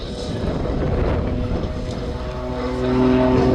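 Aerobatic aircraft flying a display at Little Gransden Airshow, a continuous loud propeller-engine drone with wind buffeting, rising in pitch and strength toward the end.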